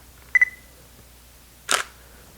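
A camera shutter set to 1/200 second fires with a Yongnuo or Cowboy Studio wireless flash trigger: a pair of quick electronic beeps, then about a second later a single crisp, close mechanical click, with no voices.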